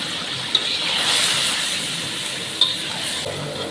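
Ginger garlic paste fries in a karahi for chicken karahi, making a steady, fairly loud hiss with two brief metallic clinks from a spoon against the pan and no speech.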